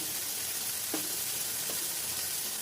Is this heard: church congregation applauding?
no